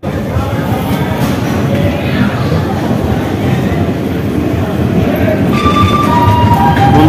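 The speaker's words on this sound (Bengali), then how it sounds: "আমাদের ট্রেন প্রয়াগরাজ জংশন ছেড়ে দিয়েছে।" The 12312 Kalka–Howrah Netaji Express pulls out of Prayagraj Junction, filling the clip with a loud, continuous rumble and hiss that carries on without a break.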